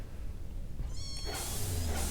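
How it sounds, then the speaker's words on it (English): A single cat meow in the video game Stardrop rises out of a steady low hum, soft and close, with no talking. "Meow."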